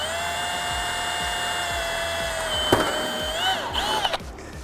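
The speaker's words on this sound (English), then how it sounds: "whenever you're drilling out these seats and you're running your drill bit through these rivet holes" A power drill whines at a steady high pitch drilling out rivet holes in a metal seat, then the tone bends and stutters as the bit catches and breaks through metal.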